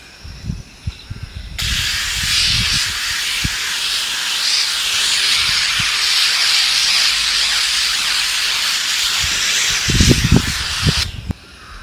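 Cooking oil sprayed in one long continuous hiss onto a hot flat top grill for seasoning, loud and close, with short handling knocks before and after the spray.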